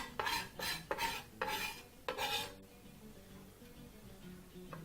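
Vegetable githeri with fresh coriander leaves being stirred in a pot, heard as about five scraping strokes in quick succession near the start, close and fairly loud, followed by a quiet stretch.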